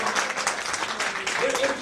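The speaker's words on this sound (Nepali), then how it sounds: "पवित्र आत्मालाई ताली बजाएर हामी धन्यवाद दिन्छौँ" A church congregation at a Nepali Christian service claps together in thanks, a dense, steady wash of many hands applauding close by, with speech mixed in throughout.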